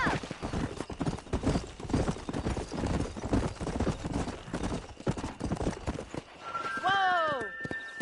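A horse gallops in the Western video game Red Dead Redemption, with rapid clip-clopping hoofbeats over rumbling movement, and a neigh near the end.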